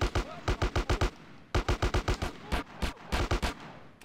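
An AK rifle fires in Grand Theft Auto: San Andreas in three close, loud strings of rapid, evenly spaced shots separated by brief pauses.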